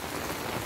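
Heavy monsoon rain during a typhoon pours steadily onto surfaces, forming a dense, continuous hiss of close drops with no talking.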